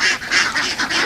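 Ducks on a pond farm give a rapid run of loud, nasal quacks and honks close by, several calls packed into about a second.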